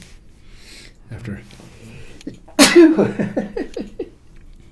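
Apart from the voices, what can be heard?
sneeze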